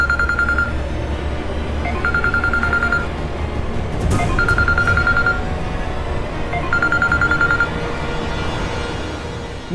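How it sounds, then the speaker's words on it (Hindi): A telephone rings unanswered in a Hindi TV drama, its electronic trill coming in four evenly spaced bursts about two seconds apart over a low room hum, with a brief thud in the middle. "निहार जी का फोन ऑफ है और माँ फोन नहीं उठा रही।"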